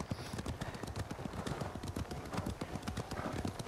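Horse hooves clip-clop steadily in Ghost of Tsushima on PS5, a rapid rhythmic trotting of several horses close by, continuing evenly for a few seconds with no one talking.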